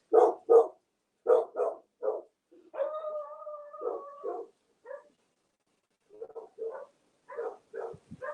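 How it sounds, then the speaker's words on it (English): A dog barking in short repeated bursts with a drawn-out howl partway through, loud and nearby, with pauses between barks. "Sorry, the dog is barking."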